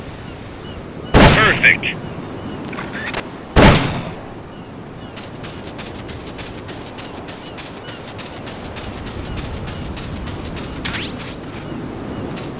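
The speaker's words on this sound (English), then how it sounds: "The M16's a standard assault rifle, capable of rapid fire." Two loud, sharp M16 assault rifle shots from Metal Gear Solid: Peace Walker ring out a few seconds apart, then only light clicks and faint game ambience remain. A short spoken word comes between the shots.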